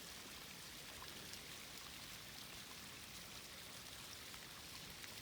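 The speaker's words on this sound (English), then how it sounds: "just a real little neat trickle of water coming off the big rock face" Small trickle of water running off a big rock face along the Appalachian Trail, a soft continuous splashing hiss with no pauses, faint and steady throughout.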